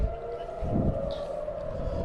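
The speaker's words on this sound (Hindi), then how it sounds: "सायरन हो रही है और आप सुन सकते हैं।" An air-raid siren wails in Tel Aviv during a missile attack, a steady, sustained outdoor tone over a low rumble of background noise.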